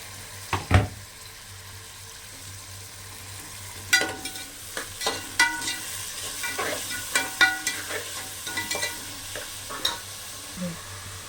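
Onions and tomatoes sauté lightly in a pan, a quiet steady sizzle with a sharp knock near the start and then a run of close spoon scrapes and clinks against the pan.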